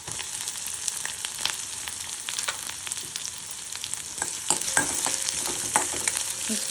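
Chillies, garlic and onion fry in a pan for Maharashtrian karela (bitter gourd) sabji, giving a steady close sizzle with occasional stirring scrapes and small pops throughout.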